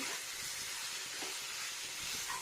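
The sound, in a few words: potato and pointed gourd frying in a pan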